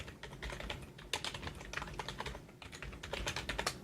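Rapid clatter of C++ code being typed on a computer keyboard, with dense irregular keystrokes running steadily throughout at close range, brief pauses between bursts, and no voices.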